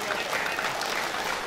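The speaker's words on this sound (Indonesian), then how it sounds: "Boleh tepuk tangan sekali lagi." Steady, dense applause from an audience at an Islamic university alumni gathering, a continuous wash of hand-clapping with no break.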